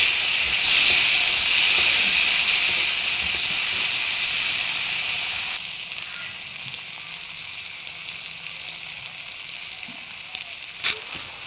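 Food stirred in a hot pan for a breakfast rice dish gives off a steady, loud sizzling hiss for the first half, then settles into a quieter simmer with a brief clink near the end.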